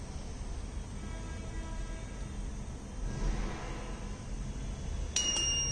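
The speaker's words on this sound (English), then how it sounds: "it will give the buzzer indication to remove the hands" A dry hand washing machine that disinfects with fog and UV light sounds a short, high electronic buzzer beep near the end, over a steady low mechanical hum.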